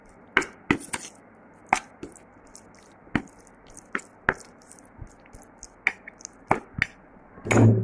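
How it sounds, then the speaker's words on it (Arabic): A knife chops tomatoes on a board, giving about fifteen sharp, close cuts at an uneven pace with brief pauses between strokes and no voices. "كده بتقطع الطماطم"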